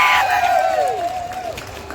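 A festival crowd at the Nocte Chalo Loku celebration in Khonsa cheers and claps for the Nocte people, a loud wash of voices and applause with a shrill falling whistle-like tone sweeping down through it.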